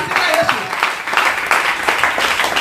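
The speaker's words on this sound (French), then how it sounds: "Acclame Jésus. Acclame Jésus" A church congregation applauds and claps in acclamation of Jesus, a dense, steady wash of clapping with crowd voices mixed in throughout.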